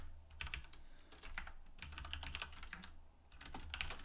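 Close computer keyboard typing while coding, a busy patter of quick keystrokes in uneven bursts with short pauses, heard alone without talk.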